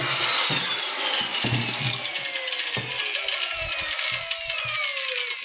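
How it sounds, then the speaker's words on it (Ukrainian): A power saw cuts through wooden boards while a handmade bed is being built. The rasping cut runs steadily and close, with knocks of wood and tool handling. "Тож Макс тут щось вирізає, вирізає"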